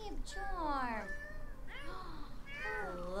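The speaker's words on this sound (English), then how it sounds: "Oh, you hear those cats?" Several cats meowing in The Sims 4, three drawn-out rising and falling meows close together, heard alone over a faint background hum.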